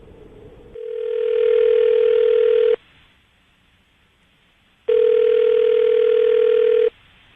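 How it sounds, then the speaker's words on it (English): A steady telephone dial tone sounds loud for about two seconds, stops briefly, then returns for another two seconds before cutting off. "we're going to call her right now and see if we can get her on the phone."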